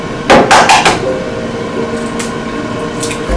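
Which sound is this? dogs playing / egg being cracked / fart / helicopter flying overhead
egg being cracked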